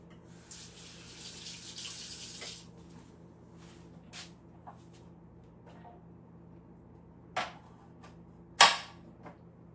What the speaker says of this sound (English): Gonna rinse it.